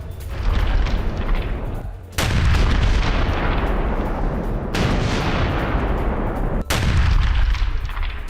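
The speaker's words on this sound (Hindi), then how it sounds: "देखिए किस तरीके से टारगेट हिट किए जा रहे हैं और यूक्रेनी सेना ने रूसी टैंक को टारगेट कर कैसे उड़ाया" Artillery fire striking a Russian tank during a Ukrainian counterattack in Kherson: three heavy, sharp booms, each trailing into a long rumbling roar, over continuous loud low-frequency noise with no speech.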